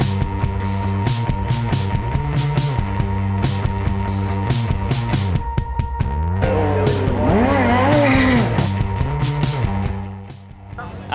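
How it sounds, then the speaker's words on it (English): A 1907 Césaire et Nordin single-cylinder French racing car runs at a hill climb, its loud, close engine buzzing with rising and falling pitch, then fading toward the end. "It's a 1907 Césaire et Nordin, which is a little French car made 110 years ago just beside the Eiffel Tower in Paris."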